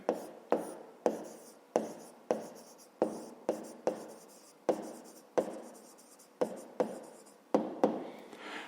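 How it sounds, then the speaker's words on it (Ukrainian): Close, steady pen-on-paper writing while triangles and rectangles are noted down for a fifth-grade maths exercise: a quick run of distinct scratchy strokes and taps, each starting sharply, with no talking. "Давайте запишемо прямокутники."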